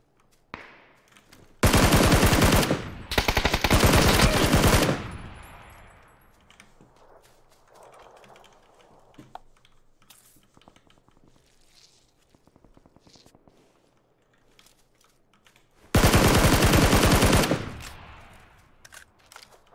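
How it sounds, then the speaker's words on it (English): Enemy players fire bursts of video game gunfire in two loud rapid volleys early on and another burst near the end, with quieter footsteps and movement between them. "That's the two guys that were shooting me from the north."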